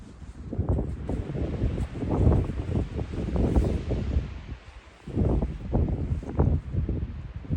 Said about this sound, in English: That wind's picked up quite a bit as well.